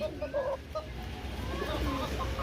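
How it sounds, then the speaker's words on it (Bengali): Chickens gather close by underfoot, giving soft clucks and short murmuring calls under a steady outdoor background hum, with faint voices present. "আর দেখ মুরগিগুলো চলে এসছে পায়ের কাছে"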